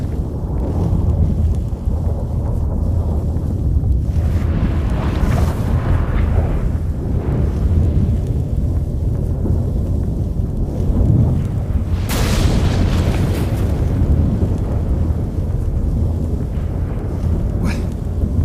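Storm rumbling in The Witcher 3: Wild Hunt, a continuous loud low roar with wind and booming thunder-like swells, sharper cracks near the middle and end, running throughout without talk.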